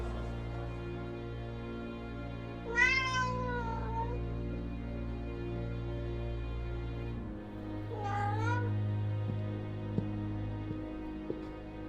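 A cat in the PC game Alfred Hitchcock: Vertigo meows twice, two drawn-out wavering cries several seconds apart, over a steady low hum.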